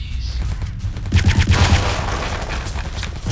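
Sterling submachine gun fire in Return to Castle Wolfenstein: a rapid close burst of automatic shots, loud and punchy with a dense rattling rhythm, followed by echoing reverb and background game ambience.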